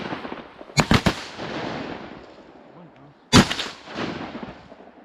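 Shotguns fire at ducks during a small-pond hunt: a quick volley of three sharp blasts, then a single louder shot a couple of seconds later, each booming nearby and trailing off into open-air echo.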